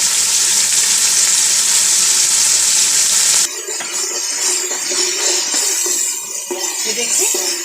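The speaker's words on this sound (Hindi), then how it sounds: "दही डाल देंगे, अच्छी तरह भून लेंगे इसको 5 मिनट तक।" Masala of yogurt, garlic, ginger and green chilies frying for keema pulao, a loud steady sizzle that shifts partway through into a rougher, crackling fry with scraping stirs.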